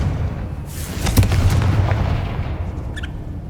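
A Confringo fire spell bursting in Hogwarts Legacy, a deep rumbling explosion that swells and rolls on as a low, sustained roar with a faint crackle near its end.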